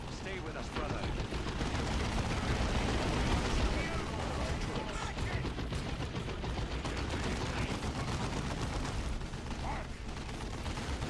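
Turrets in Dawn of War II fire nonstop, a dense rapid rattle of gunfire with mechanical clatter, held steady for several seconds amid battle din.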